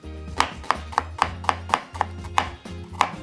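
A knife slicing an onion thinly on a cutting board, about ten crisp, evenly spaced chops, close and clear with no talk.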